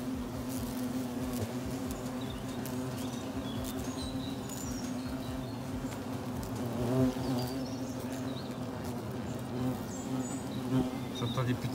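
European hornets swarming thickly around a nest, a dense continuous buzzing hum close by, with faint small knocks as insects strike a protective helmet.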